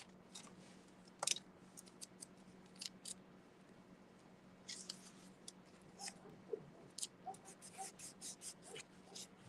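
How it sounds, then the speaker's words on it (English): Scissors cutting small strips of leather for a puppy treat bag, a series of quiet crisp snips and clicks with gaps between them, close but faint over a steady low hum. "I'll just cut me a couple of little strips"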